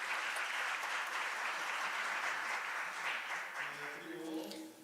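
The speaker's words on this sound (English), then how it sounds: "Please give them a big round of applause." Audience applause fills the hall at an international intellectual property court conference, a steady, dense wash of clapping that holds for several seconds and thins slightly toward the end.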